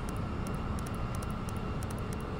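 Boeing 777-200LR jet engines in the X-Plane 11 flight simulator, a steady, loud broadband roar with low rumble during descent, with faint regular ticks in the background and no talk.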